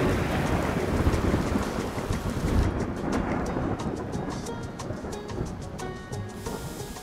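Steady thunderstorm rain from the video game Spirittea, a dense continuous downpour with rumbling low thunder throughout, with faint lighter patter emerging near the end.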